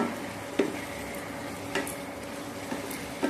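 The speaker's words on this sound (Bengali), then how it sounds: "ধনে গুঁড়োটা দিয়ে দিচ্ছি, নেড়ে নিচ্ছি" Ground coriander and cumin are stirred into a deshi chicken curry in a pan over steady sizzling. A few sharp scrapes of the spoon against the pan stand out close and clear, with no talk.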